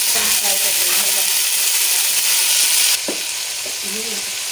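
Boiled peas and onions frying lightly in a pan, a loud close steady sizzle that drops abruptly partway through, with faint stirring scrapes.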